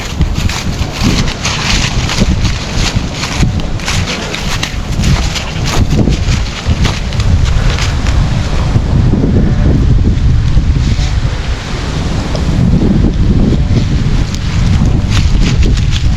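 Strong halny wind in the Polish countryside hills buffets the microphone, a loud, continuous roaring rush that swells and dips for the whole stretch, with no voices.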